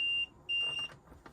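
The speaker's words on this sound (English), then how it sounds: "it will just beep and flash, just saying that your fridge isn't turned on" A Burstner IXEO motorhome fridge gives a warning beep: two steady high-pitched tones, the second slightly longer, separated by a short gap and followed by faint rustling, heard at close range.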